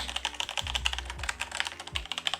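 Steady, fast typing on a Logitech mechanical keyboard with brown switches fills the clip with dense, close-up key clacks at an even pace and no voices.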